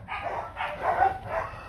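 A dog of the Vietnamese Bắc Hà breed, a shaggy bobtailed native dog, barks three times in a close, evenly spaced series of strong, full barks.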